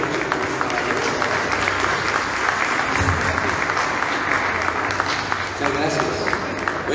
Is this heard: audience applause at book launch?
yes